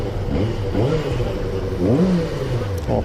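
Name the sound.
Qjmotor 600RR motorcycle exhaust revving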